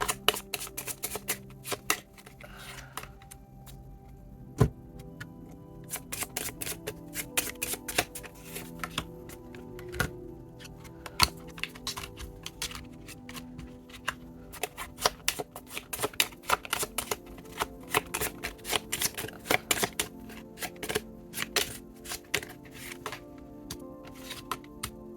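Tarot cards are shuffled and picked in a quiet room, with bursts of fast riffling and flicking separated by soft pauses and single taps as cards are handled and laid down.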